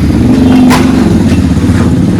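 A motorcycle runs close by at a brick kiln construction site, with a loud, steady engine drone and a little clatter throughout.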